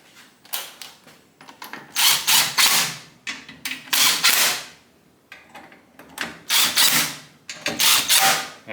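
Bolts are snugged up during the restoration of a Craftsman 6 inch jointer, heard as close, repeated short bursts of a tool working with brief pauses between them, and no one speaks.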